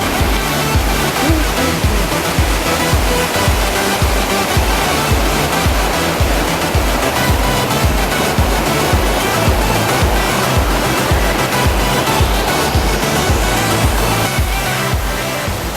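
A loud, constant rush of river water churns through a gorge among waterfalls, a dense unbroken roar close by with no pauses throughout.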